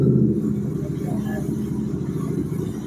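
A Royal Enfield GT 650 motorcycle fitted with a Red Rooster exhaust idles at a second-hand bike showroom, a steady deep thumping rumble close by, with voices talking over it.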